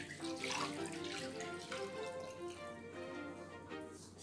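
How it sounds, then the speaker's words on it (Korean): Cooled broth is poured over sliced acorn jelly topped with vegetables, a faint close splashing and trickling of liquid lasting a few seconds. "육수 식혀준 육수를 넣어주겠습니다."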